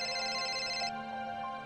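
A mobile phone ringing with an incoming call: a bright electronic tone that repeats in a steady rhythm, clear and close, with no talk during the brief span.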